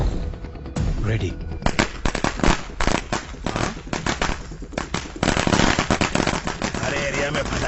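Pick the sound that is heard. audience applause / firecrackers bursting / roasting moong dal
firecrackers bursting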